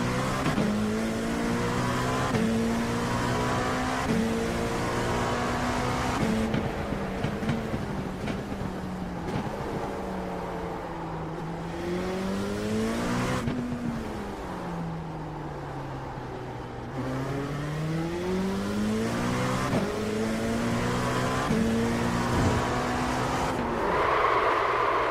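An LMP2 prototype race car pulls out of the pit lane at Silverstone during testing, its engine note rising and falling through repeated gear changes, loud and close throughout with no talking.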